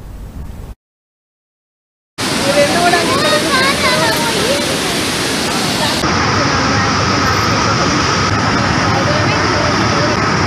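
Heavy water roars from the raised gates of the Srisailam reservoir dam as a steady, loud, broadband rush. It cuts in after a brief silence, and faint voices sit under it near the start.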